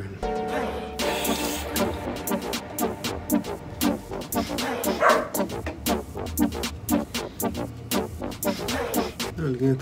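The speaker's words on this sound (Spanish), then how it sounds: "Dale a Bruno a ladrar así, necesidad." A dog barks repeatedly at someone passing in front of a house, loud sharp barks in rapid irregular bursts with some yips, close by and continuing throughout.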